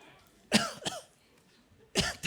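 A preacher coughs during a sermon on the Kingdom of Heaven: two quick harsh coughs close together, a pause, then one more cough, close and fairly loud with no talk around them.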